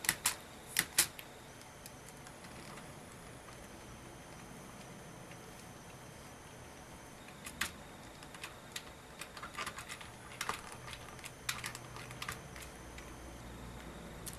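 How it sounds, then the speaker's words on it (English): Repeated presses of a computer keyboard spacebar while playing a DOS game, heard as sharp clicks: a quick cluster near the start, then scattered taps and short bursts later over a steady low hum, with no talking. "I wish I could push the spacebar a million times."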